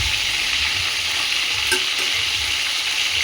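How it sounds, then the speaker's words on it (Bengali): Pointed gourds fry in ghee in a pan, a loud, even sizzling hiss close by with a faint clink partway through, and no voices. "সব কটা উল্টিয়ে উল্টিয়ে ভেজে নিচ্ছে"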